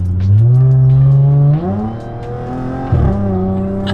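A loud Audi S4 with a valved exhaust revs hard close by. The engine note climbs, drops, then surges again in a deep, rasping roar with no talking.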